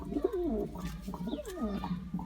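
Pigeons coo in soft, throaty, rolling calls, several birds overlapping close by with a faint background hum and no speech.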